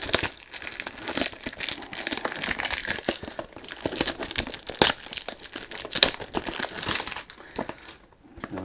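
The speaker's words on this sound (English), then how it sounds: "Sorry about the noise. When you do unboxing, you can't do anything about it." Loud, continuous crinkling and crumpling of perfume box packaging, with sharp crackles and rustles as wrapping is handled and pulled apart, close by and without voices.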